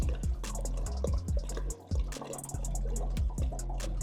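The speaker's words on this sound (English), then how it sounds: "I'm going to do that by filling the drip tray." Water splashes into the drip tray of a HIVE Café brewer in a steady run of close drips and small splashes, with a brief dip partway through and no talk over it.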